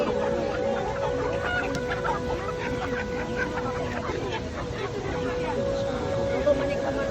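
Chickens cluck in a rural yard, with short repeated calls layered over steady background noise and a low murmur of people talking.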